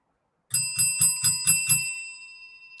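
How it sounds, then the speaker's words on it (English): A bright bicycle-style bell rings six quick times in a steady rhythm, close and clear, then its metallic tone fades out. "Ring that bell."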